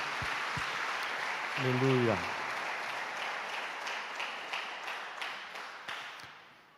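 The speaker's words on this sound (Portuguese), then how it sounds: "aplauda bem forte a palavra de Deus" A church congregation gives a brief burst of applause after a sermon, with a voice calling out over the clapping, which tapers off into quieter scattered claps.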